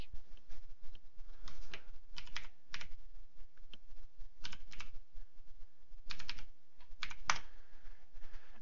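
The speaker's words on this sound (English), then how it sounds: "we need to type in the admin password" Someone types an admin password on a computer keyboard, a close series of quick key clicks in short irregular bursts with brief pauses between them.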